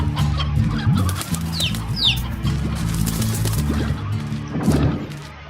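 A rooster in the video game Slime Rancher clucks in short, repeated bursts over a steady game background, with a couple of brief chirp-like sweeps and a burst of fluttering.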